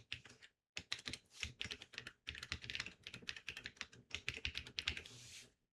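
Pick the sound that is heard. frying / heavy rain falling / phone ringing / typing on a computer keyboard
typing on a computer keyboard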